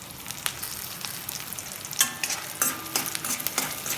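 Vegetables sautéing for a Nagercoil-style sundakkai vathal theeyal, with a steady pan sizzle broken by scattered stirring clatters and spoon scrapes at close range. No one speaks.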